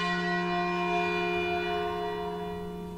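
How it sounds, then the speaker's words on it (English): Church bells ring in a National 12-Bell Striking Contest final, their long overlapping tones blending into a loud, sustained wash that slowly fades. No one speaks. "I'm not going to talk over a bell ringing."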